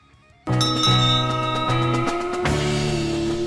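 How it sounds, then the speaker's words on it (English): A real ship's bell cast in 1811 tolls within a rock song, its strikes ringing out loud and metallic with long sustained resonance over the music, one fresh strike landing partway through. "The rhythmic tolling of a real ship's bell cast all the way back in 1811."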